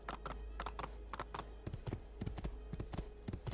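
Horse hooves clip-clop in a steady trotting rhythm in Assassin's Creed 2, moderately close, over a low constant background hum.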